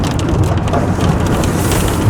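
Heavy rain pounding steadily during a road trip from Dalhousie in a thunderstorm, a loud dense wash of drumming noise heard from inside a vehicle, continuous throughout with no voices.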